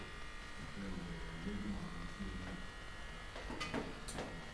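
Electric shaver buzzing steadily while shaving, a continuous close hum with brief louder bursts near the end, with faint speech in the background.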